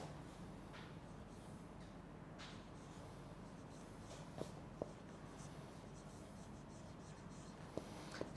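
Pen scratching steadily on paper during a lecture, soft and continuous with a few light taps and scrapes, close by and without talk over it.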